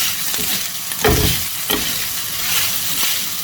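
Mutton pieces frying on a tawa hiss loudly and steadily up close, with a few sharp spatula scrapes and stirring bursts cutting through the sizzle.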